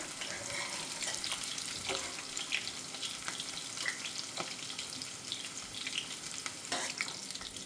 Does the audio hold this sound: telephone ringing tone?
no